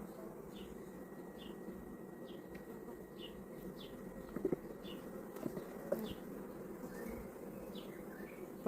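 Honey bees from a strong hive colony yielding about 30 kg of honey buzz in a steady, dense drone close by, with a few faint clicks and taps near the end.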